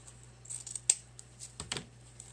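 Scissors trim a handmade reversible grandchildren shelf sitter craft piece, giving a few short, crisp snips close up against a faint steady hum.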